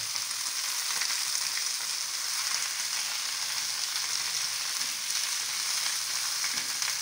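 Pechay cooks in a hot pan, giving a steady, even sizzle and hiss throughout, close and moderately loud, with no voices.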